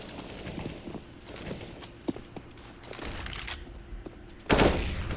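Counter-Strike tournament gunfire, with scattered rapid shots and footsteps throughout and a louder burst of fire near the end, all fairly faint and distant.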